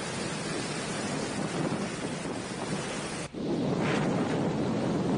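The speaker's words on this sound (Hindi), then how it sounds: "तेज रफ्तार में बहती हवा और हवा का शोर साफ तौर पर आप देख पा रहे हैं" Strong winds from Cyclone Nisarga sweep the coast near Alibag and Mumbai, making a loud, unbroken broadband roar that briefly dips and then surges back even stronger.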